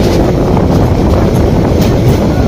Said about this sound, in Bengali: যমুনা সেতুতে এখন ইন করবে ট্রেন